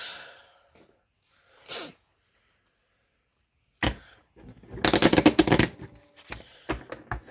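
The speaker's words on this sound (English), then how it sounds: "let me just shuffle these up" Cards being handled: a brief quiet flick, a pause, then a rapid riffle shuffle with fast fluttering snaps, close up and crisp.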